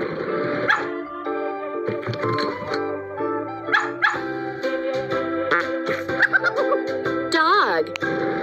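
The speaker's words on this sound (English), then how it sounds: "Dog." A dog barks and yips several times over a bright, busy music bed, the barks close and fairly loud.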